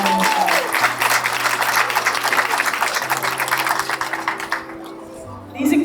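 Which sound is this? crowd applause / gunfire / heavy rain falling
crowd applause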